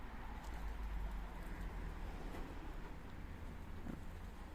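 Pigeons perched quietly on netting near a Warsaw parking area coo softly and faintly over a steady low ambient hum and wind.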